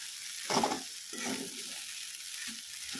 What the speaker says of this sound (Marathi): त्याला हलवत राहायचं